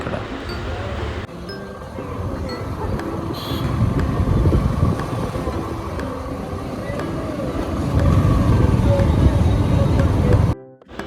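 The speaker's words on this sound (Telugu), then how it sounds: "మామూలు ట్రాఫిక్ కాదు, ట్రాఫిక్ హెడేక్ చాలా ఎక్కువ." Heavy night-time road traffic in Hyderabad, heard from a moving motorcycle as a loud continuous rumble of engines and wind that swells near the end, with voices talking over it.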